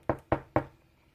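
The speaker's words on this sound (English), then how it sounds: "She knocked at the door." Three sharp knocks on a door, evenly spaced and close, with nothing else heard around them.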